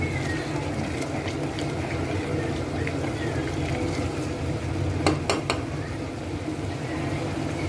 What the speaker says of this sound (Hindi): ये पक रही है ग्रेवी